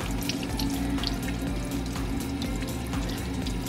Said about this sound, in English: washing the outside of your ornament in the sink with just the tiniest little bit of dish liquid of your choice. Rinsing it off again.